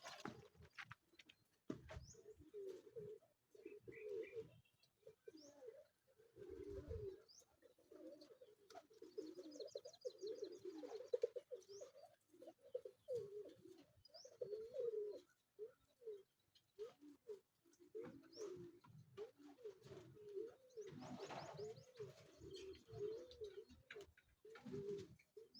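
Racing pigeons in a loft coo softly in repeated, rolling calls, with wing flutters and scattered chirps, fairly faint and close in a quiet space.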